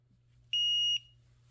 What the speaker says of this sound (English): When you know this is done, she'll go ahead and set off a beep just like this.